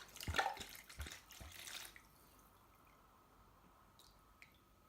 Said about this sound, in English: Empty that into this Tupperware tub.